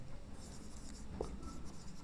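Marker or chalk writing on a board during a seating-arrangement reasoning lesson, with faint continuous scratchy strokes and a soft tap, quiet and close with no talk.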